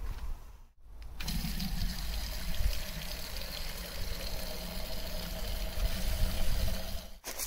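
Steady rushing, trickling water from a leak inside a Vauxhall Astra Coupe, a continuous flowing stream close by that cuts out briefly at the start and near the end.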